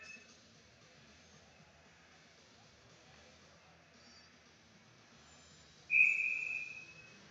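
During an ice hockey game between the Wainwright Rustlers and Vermilion Rock, a referee's whistle blows once, a sharp clear blast near the end over faint arena ambience.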